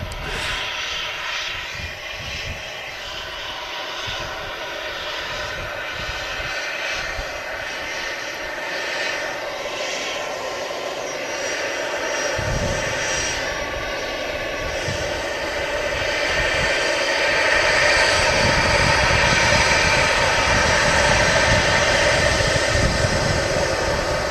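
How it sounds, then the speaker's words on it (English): A World2Fly Airbus A350 on its first arrival at Manchester Airport touches down, its jet engines roaring steadily and loud, swelling further toward the end with no talk over it. "That was a buttery smooth touchdown"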